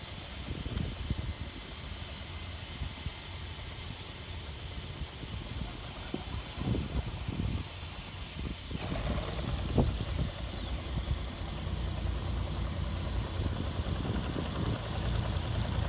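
A train engine idles at a railway junction with a steady low rumble under a constant hiss, with occasional knocks and clanks, continuous and fairly distant, without speech.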